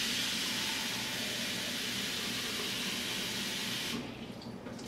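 A medium-sized saucepan fills from a kitchen tap with water for poaching eggs, giving a steady, close, loud rushing hiss that softens and changes pitch near the end as the level rises.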